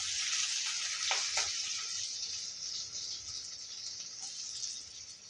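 Sliced big onions, curry leaves and a dried red chilli fry lightly with salt in a pan, giving a soft, steady hiss with a couple of brief crackles near the start and no talking.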